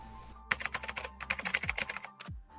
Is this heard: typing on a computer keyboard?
yes